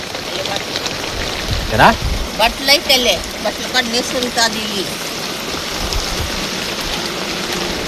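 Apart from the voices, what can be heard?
rain falling on a leaking shed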